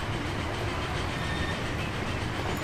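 A train in the Transport Fever simulation game rolls into a station platform, a steady close rumble of wheels and carriages with faint rail clatter throughout.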